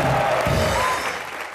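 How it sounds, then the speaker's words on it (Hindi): Studio audience on a Hindi TV comedy show breaks into steady, loud applause for the character Shamsher Singh. The clapping is dense and fairly close, then eases slightly toward the end. "शमशेर सिंह के लिए जोरदार तालियां।"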